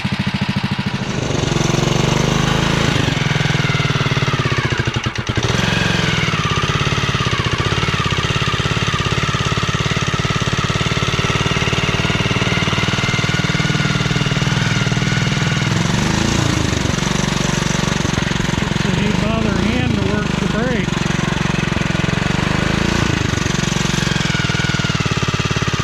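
REO Trikeabout trike engine laboring uphill, a loud, steady, rough mechanical drone with rattling knocks and slight pitch swells throughout, close to the machine and with no talk.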